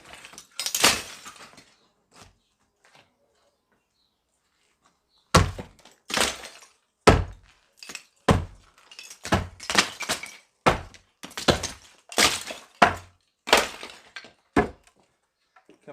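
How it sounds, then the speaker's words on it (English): Loose pieces of a ruined structure are broken and shaken free: irregular thunks, cracks and clinks of stone, wood and debris, with a long quiet stretch before a dense run of knocks. "Busted a couple pieces over here and been shaking it a little, see if I can get it to loosen up"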